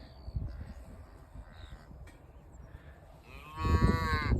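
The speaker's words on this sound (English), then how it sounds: "It's another bad cow." A cow gives one loud, drawn-out moo near the end, preceded by quieter farm ambience and distant crow caws.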